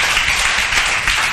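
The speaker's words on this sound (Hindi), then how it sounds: "चलो तन्वी श्रीखंडे, तन्वी श्रीखंडे के लिए जोरदार तालियां बजाबे।" Students in a Class 10 mathematics classroom clap loudly together, a close, steady burst of applause filling the room without talk.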